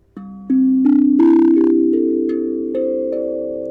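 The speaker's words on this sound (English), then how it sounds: "lovely drum. It's called an idiopan." A heavy idiopan steel tongue drum played in a few slow struck notes, each warm, bell-like tone ringing on and overlapping into a sustained, gently decaying chord, with no talking.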